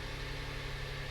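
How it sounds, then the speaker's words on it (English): Hyundai Palisade engine idling just after starting, a steady low rumble with even vibration, close and unbroken, no voices. "And then I'm going to go ahead and start the car."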